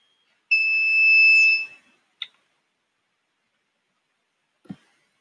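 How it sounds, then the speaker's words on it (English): A smart band for blind people, a distance-keeping device, sounds its proximity alert: a single steady high-pitched electronic beep about a second long, followed by two faint clicks in otherwise quiet surroundings. "if the device gets closer, then one of these device will make the sound or vibrate as an indicator"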